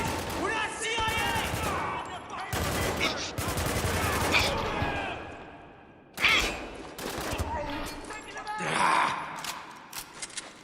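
Rapid bursts of automatic gunfire and single shots in a military shooter video game, loud and close, alternating with short pauses, with shouted character voices between volleys.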